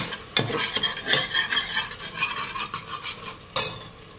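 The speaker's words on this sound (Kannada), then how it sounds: "ಮಿಕ್ಸ್ ಮಾಡಿ ಚೆನ್ನಾಗಿ" Ground masala and curry leaves stirred in a pan: a spoon scrapes and clinks against the metal in quick, irregular strokes, with a faint sizzle beneath, close and alone without talk.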